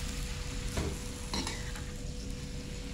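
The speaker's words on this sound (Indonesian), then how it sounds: "Dan ini diaduk-aduk sampai benar-benar merata ya teman-teman. Dan sampai kangkungnya itu sedikit layu." Water spinach and basil leaves being stirred and tossed in a frying pan, a steady sizzle throughout with a few scraping stirs of the utensil near the start and middle, close and moderately loud, no talking.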